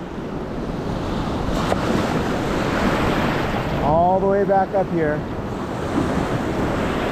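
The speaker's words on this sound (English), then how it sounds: "See the waves" Ocean surf breaking on a San Diego beach, a loud continuous wash of whitewater roar with heavy wind buffeting the microphone, while someone talks briefly over it midway.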